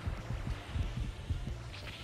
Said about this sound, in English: you can actually hear the sound of a heartbeat in the background